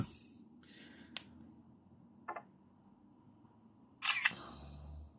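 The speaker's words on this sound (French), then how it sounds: "On va essayer de prendre une petite photo ici." A Ulefone Armor 23 Ultra smartphone camera snaps a photo, giving a few short, soft clicks over quiet room tone, with a brief louder burst near the end.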